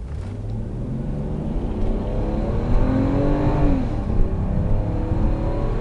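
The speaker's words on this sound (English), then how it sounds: "Excellent acceleration." A 2001 BMW 330i four-door with a 3.0-litre inline six gives a loud, steady engine roar heard from inside the car, its pitch rising smoothly as it accelerates, with no talk.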